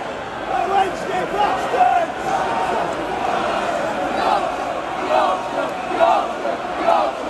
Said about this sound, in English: What are you booing for?